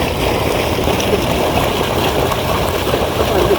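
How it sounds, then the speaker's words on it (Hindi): Water flowing from a pond into the Salman Farsi date garden in Medina makes a steady, close rushing and trickling sound, continuous throughout. "चले अंदर चलते हैं, पानी की आवाज़ सुने।"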